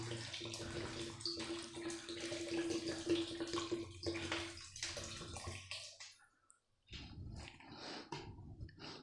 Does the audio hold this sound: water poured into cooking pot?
yes